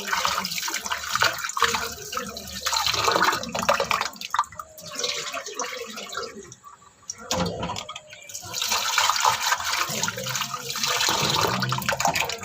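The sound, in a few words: water running while rinsing lentils (dal)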